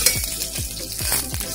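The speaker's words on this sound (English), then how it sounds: "few curry leaves, after they are spluttering, saute them for" Curry leaves splutter and sauté in hot oil along with dal, giving a brief, close, crackling sizzle with a few sharp pops.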